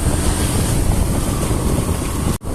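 A morning motorcycle ride toward a market in Meghalaya gives a loud, constant rush of wind buffeting the microphone. No engine note stands out, and there is a brief dropout near the end.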